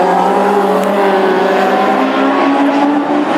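Classic hot rod race cars at a Birmingham racing heat drive past with a loud, continuous engine roar whose pitch drifts slowly downward as they go by, heard close up.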